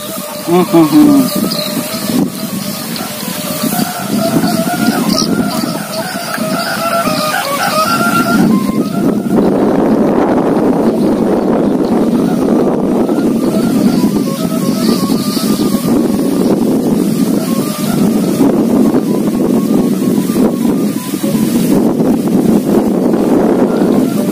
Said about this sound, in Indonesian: Luar biasa anginnya.